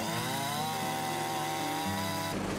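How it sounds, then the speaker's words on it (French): Chainsaw debarking logs at a sawmill, the motor's harmonic whine rising and settling as it works the wood, then cutting off abruptly near the end. "L'écorçage est exécuté souvent à la tronçonneuse et sans protection."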